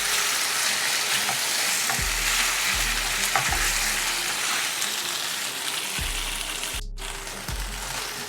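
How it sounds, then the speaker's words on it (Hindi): Marinated chicken sizzles and fries in a pan with ginger for a hot and sour chicken soup, a loud continuous crackle broken by several low thuds and scrapes as the pieces are stirred. "अब इसमें मैं ऐड कर रही हूँ ये चिकन जो मैंने मैरिनेट किया था। अब इसको हम फ्राई कर लेंगे, थोड़ा सा पका लेंगे।"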